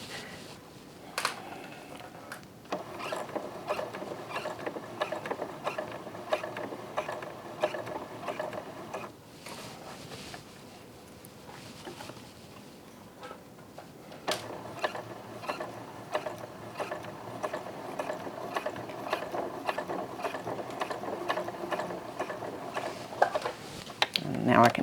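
Sewing machine stitching in the ditch along a T-shirt neckline seam, a steady mechanical whir with a brief pause partway through, fairly close and moderately loud, with a voice faintly present at times.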